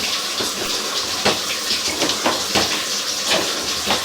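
Water rushing steadily through a residential sewer line during a sewer scope inspection, a continuous hollow wash with faint splashes and gurgles, fairly loud and close, with no voices.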